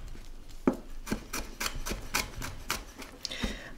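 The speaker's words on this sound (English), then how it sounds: "And we're just gonna chop this up." A knife chops smashed garlic on a cutting board while Chinese spare ribs with black bean sauce are prepared, giving quick, irregular close taps with no talk.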